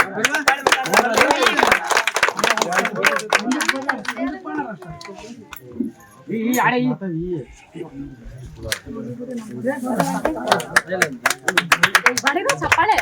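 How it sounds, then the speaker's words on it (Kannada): An audience claps at a village jayanti celebration in Kottige Machahalli, with bursts of rapid applause mixed under and between loud amplified speech. "ಎಲ್ಲ ಚಪ್ಪಾಳೆ"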